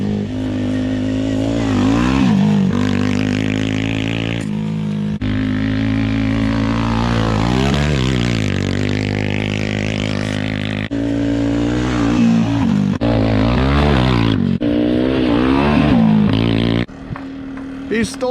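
A small 110 off-road dirt bike engine revs and buzzes loudly and continuously on a lawn, rising and falling in pitch with repeated throttle pulls, while people talk over it.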